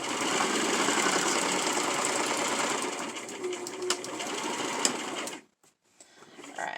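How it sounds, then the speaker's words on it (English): A sewing machine runs a straight stitch at close range in a steady continuous whir, pausing briefly near the end before restarting. "So, I'm going to do a straight stitch."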